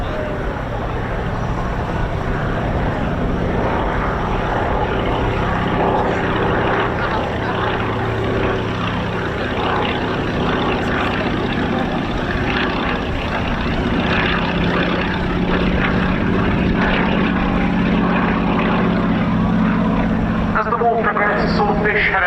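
A Fairey Swordfish propeller biplane flies at the RAF Cosford air show, its engine a steady, loud droning hum that swells slightly as it passes, while an announcer talks throughout.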